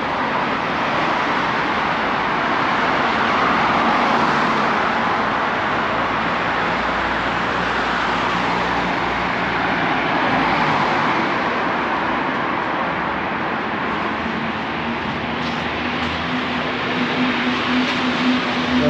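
Busy city street traffic in Skopje, North Macedonia, a loud continuous rumble of passing cars and engines close by, steady throughout with a rising engine tone near the end and no talk.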